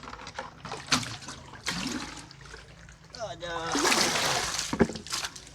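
Water splashing and sloshing into a bucket being filled at a tubewell, with bursts of splattering and a louder gushing stretch toward the end, heard close alongside someone talking.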